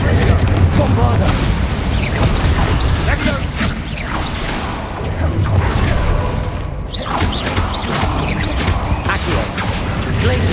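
Bombarda blasting spell exploding in Hogwarts Legacy, heavy booms and crashing debris under a busy mix of combat effects, with a voice talking in between.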